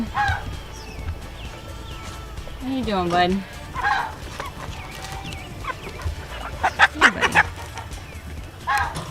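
Guinea fowl on a goat farm call out loudly in short, harsh, repeated bursts, with several birds clustering toward the end, while someone speaks gently to an animal over a steady outdoor background.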